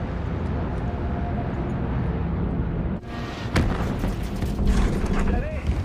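Aircraft engines drone steadily over Zeeland, then sharp bursts and booms of anti-aircraft fire break in, with mechanical rattling over the roar.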